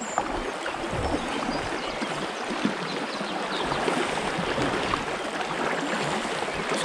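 A fast-flowing river at a barbel fishing spot rushes past as a constant, close, broadband roar of churning water. It stays steady throughout with no voices.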